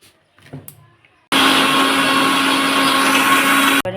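An electric grinder purees carrot paste with milk for carrot malpua, starting abruptly after a few quiet handling knocks and roaring loud and steady for about two and a half seconds before cutting off.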